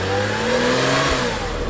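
Porsche Boxster 986 engine running rough and misfiring from a vacuum leak caused by a loose oil cap, a steady close uneven drone with wavering tones throughout, no talk.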